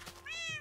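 A Minecraft cat gives a single short, rising meow, close and clear over a faint low hum.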